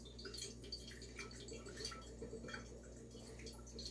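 Coconut water drips and trickles from an opened coconut into a quart jar, giving soft irregular liquid patters that are faint and close over a low background hum.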